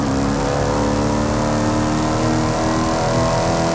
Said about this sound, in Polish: Ale fajnie brzmi ten samochód.